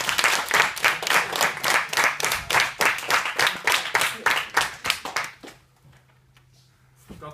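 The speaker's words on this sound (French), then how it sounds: "Est-ce qu'on peut applaudir Flo, s'il vous plaît?" Audience applause at a French stand-up comedy show, a dense burst of clapping that runs for about five seconds and then dies away abruptly, leaving a near-silent room.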